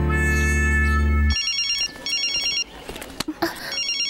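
A mobile phone rings with a steady repeating electronic tone, loud and close, then breaks off; short bursts of a higher beeping ringtone pattern follow, with brief scuffs and movement around it.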